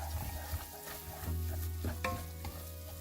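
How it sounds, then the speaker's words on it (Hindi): Coarse semolina roasting in a pan for suji halwa, stirred continuously, making a soft dry scraping and faint sizzle with a few light utensil taps and no talk. "इसे बहुत अच्छी तरह भून लेना है।"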